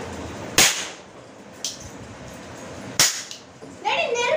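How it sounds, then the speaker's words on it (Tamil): Firecrackers set off at a birthday celebration after a meal: two sharp, loud bangs about two seconds apart, each with a short crackling tail, followed by a fizzing, whistling burst near the end. "சாப்பிட்டு முடிச்சுட்டு அவங்க பட்டாசு வெடிக்க ஸ்டார்ட் பண்ணியாச்சு."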